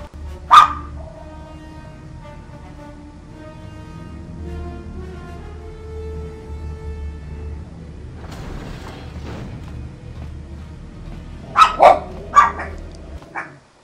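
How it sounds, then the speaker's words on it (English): Dogs bark in a Knights of the Old Republic game scene: one sharp bark near the start, then a cluster of quick barks near the end over a low mechanical hum. "Dogs, this is not the time to be barking."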